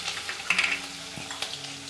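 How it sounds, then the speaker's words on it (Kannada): Curry leaves hit hot oil in a pan, giving a close, crackling sizzle with sharp spitting pops and light stirring scrapes, no voices over it. "ಈಗ ಕರಿಬೇವು ಹಾಕ್ಕೊಳ್ತದೆ."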